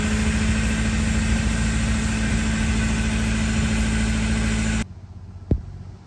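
A car engine with EGR faults idles steadily during an intake cleaning spray, a loud, close, even drone that cuts out abruptly near the end, followed by a single brief knock in the quiet.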